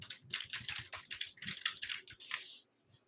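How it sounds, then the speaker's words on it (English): Rapid, steady typing on a computer keyboard, close and fairly loud, with irregular clusters of key clicks running for nearly three seconds before a brief pause near the end; no talking. "The pressing of my keys is the only sound"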